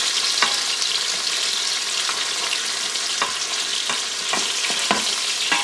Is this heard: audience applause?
no